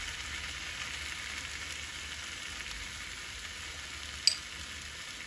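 Bora and potato with shallot fry in hot oil with a soft, steady sizzle, quiet and continuous, with one brief knock of a utensil near the end as the food is turned.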